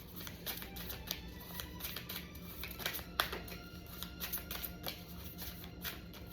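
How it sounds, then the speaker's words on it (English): A deck of tarot cards shuffled by hand, quiet rapid riffling and soft flicking clicks repeating steadily throughout against a low background hiss. "I've been shuffling a lot."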